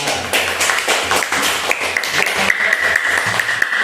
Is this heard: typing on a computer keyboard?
no